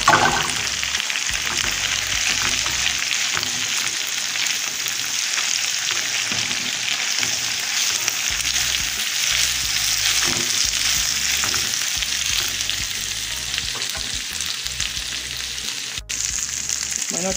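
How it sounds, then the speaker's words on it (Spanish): Meat for homemade tacos al pastor, mixed with pineapple and onion, browns in a pan with a loud, steady sizzle and crackle that runs unbroken throughout, joined by occasional stirring scrapes and no voices. "Ahora sí vamos a dejar que se dore la carne."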